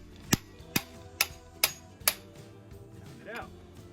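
A camshaft bearing is pounded out of a Jeep 2.5L four-cylinder engine block, five sharp metallic hammer blows at a steady rhythm, close and loud, followed by a brief scrape.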